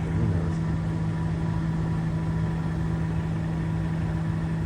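Parking enforcement trucks idle nearby with a steady low engine hum and a constant drone running unbroken throughout, with no talking.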